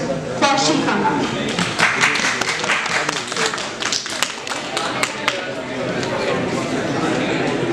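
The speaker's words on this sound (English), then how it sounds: "A round of applause for Shikha ma'am." Sustained applause for a guest at a ceremony, dense clapping from a seated audience that holds steady for several seconds and then thins slightly, with a voice briefly audible at the start.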